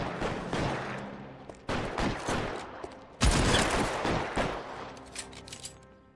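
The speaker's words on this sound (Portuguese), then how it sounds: "Este é o primeiro tiroteio desta missão" Shootout in the video game L.A. Noire: bursts of gunfire crack out in quick volleys, with a very loud close shot midway followed by ringing, scattered rounds and decaying echoes.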